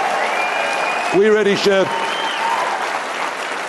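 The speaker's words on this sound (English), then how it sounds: "we should all applaud him" Conference audience applauding a speaker at a political gathering, steady broad clapping from a large crowd throughout, with someone speaking briefly over it partway through.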